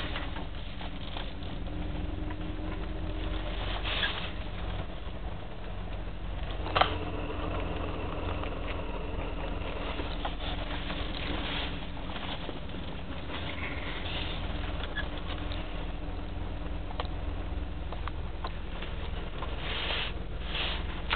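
A smooth, steady BMW 850 engine hum with low exhaust drone while driving through a parking garage, fairly quiet and constant, with no talking.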